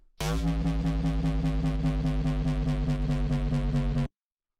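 A buzzing, distorted synth tone holds steady with a harsh raspy top and a pulsing throb underneath, loud and continuous for about four seconds before cutting off.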